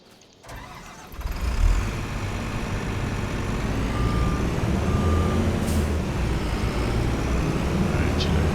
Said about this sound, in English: there goes my truck